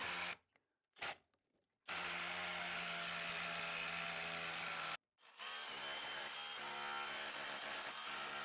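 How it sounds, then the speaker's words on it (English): An SDS Plus rotary hammer with a solid pilot bit drills through a wall toward the exterior, a loud, harsh, sustained hammering roar that starts with a few short bursts, cuts out briefly, then resumes. "this SDS Plus rotary hammer is gonna have so much more punch"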